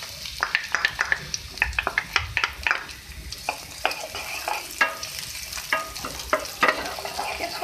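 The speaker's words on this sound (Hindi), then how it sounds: "मैंने इसमें ये ऑयल ऐड किया है, ठीक है, वाइट ऑयल है। मैं इसमें लहसुन डाल रही हूँ।" Garlic fries in white oil in a pan, giving a continuous crackling sizzle with sharp spitting pops, while a spoon scrapes and stirs in irregular strokes, close and clear.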